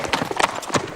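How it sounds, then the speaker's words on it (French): Horse hooves clip-clopping quickly and loudly close by, a brisk run of sharp knocks in a short burst. "les chevaux n'aiment pas les surprises"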